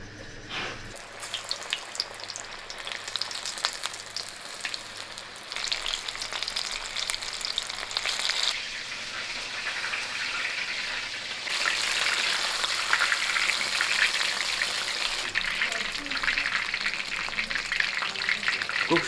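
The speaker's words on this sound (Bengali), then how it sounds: "রিফাইন তেল গরম হচ্ছে, সেখানে কিন্তু সবগুলো ফ্রাই করে নেব ক্রিস্পি করে।" Rice-flour-coated fish pieces deep fry in hot refined oil for salt and pepper fish, a dense close bubbling sizzle that swells louder partway through and keeps going with no break.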